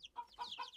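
Cartoon hens clucking in a rapid, chattering burst of short, high calls, close and fairly quiet with no talk.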